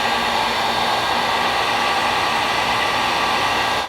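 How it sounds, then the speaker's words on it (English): A hot air gun blows loudly and steadily, shrinking heat shrink tubing onto a soldered wire; the broadband rushing hiss continues unbroken throughout, with no talking. "we managed to get the heat shrink on there fairly tightly"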